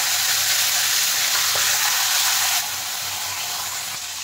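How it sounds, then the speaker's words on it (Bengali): Fish heads hiss loudly in hot mustard oil in a pan, a close, dense and steady sizzle that drops to a softer crackle partway through. "দেখেন তেল গরম হয়ে গেছে, এখন আমি মাছের মাথাগুলো দিয়ে দিচ্ছি।"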